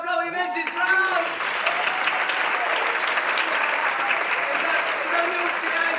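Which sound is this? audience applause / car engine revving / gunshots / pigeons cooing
audience applause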